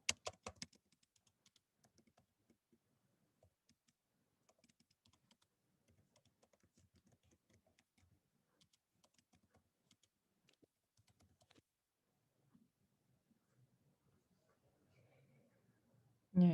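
Sparse, faint keystrokes on a computer keyboard tap out irregular bursts for about twelve seconds, with a low murmur near the end and a louder thump closing it; no speech is heard.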